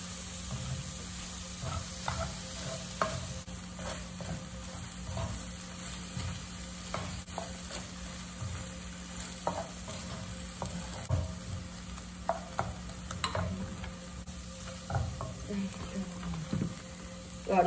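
Seafood fried rice ingredients stir-fried in a pan, a steady close sizzle with frequent scraping and tapping of the spatula throughout.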